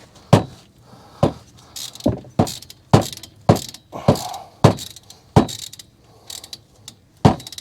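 Hand wrench tightening brake caliper bolts on a Toyota RAV4, a run of about a dozen crisp ratcheting clicks in an uneven rhythm, close and fairly loud, with faint metallic handling between strokes.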